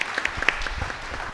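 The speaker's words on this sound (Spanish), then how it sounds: "le brindamos un aplauso a la doctora Cristina Gómez" An audience at an academic history lecture applauds a speaker being introduced, brief scattered claps with a few sharp bright peaks.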